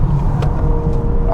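Steady, loud engine and road drone inside a moving 2026 Honda Prelude hybrid, heard from the cabin, with a faint voice briefly audible over the continuous rumble.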